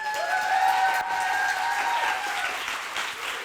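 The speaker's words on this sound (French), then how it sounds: "je vous demande de les applaudir" An audience at a pitch night applauds with sustained, full clapping that fades slightly toward the end, a tone ringing faintly above it.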